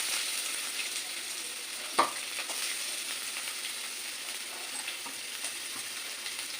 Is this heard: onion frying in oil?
yes